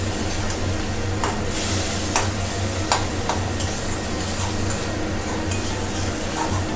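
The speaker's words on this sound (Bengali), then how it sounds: "কাঁচা লঙ্কা, ধনে পাতা আর টমেটো পেস্ট দিয়ে এটাকে একটু নাড়াচাড়া করবো" Tangra fish curry with green chili, coriander leaves and tomato paste being stirred in a pan, with soft scraping and occasional sharp utensil clicks over a low steady simmer and sizzle.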